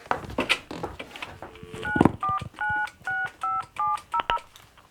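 A telephone number is dialed in an office, starting with a rustle and clunk of the handset being picked up, then a series of eight evenly spaced, loud keypad tones.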